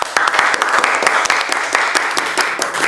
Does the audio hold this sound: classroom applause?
yes